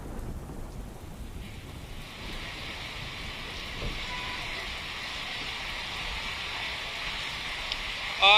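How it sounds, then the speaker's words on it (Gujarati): Heavy rain pours down in Ahmedabad in a steady, dense hiss, continuous and close, with no voices over it. "વરસાદ જોરથી વરસી રહ્યો છે"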